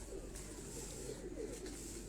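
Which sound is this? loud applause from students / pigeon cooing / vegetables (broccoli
pigeon cooing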